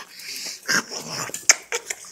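Two dogs make short whimpering and snuffling sounds close by, a few brief yelps and squeaks scattered over a couple of seconds in a quiet room.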